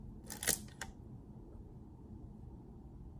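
A Canon F-1 film camera fires its shutter with a sharp mechanical clack followed by a second quieter click, close and crisp, then only faint room hiss remains.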